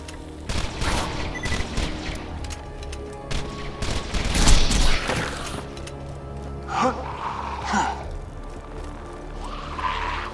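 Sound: gunfire from blue projectiles in a video game

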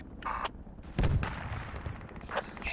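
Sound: gunfire from the video game Project Reality

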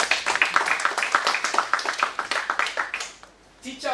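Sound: audience clapping

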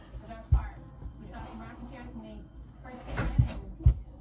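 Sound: door opening and closing

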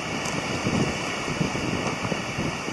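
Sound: strong wind

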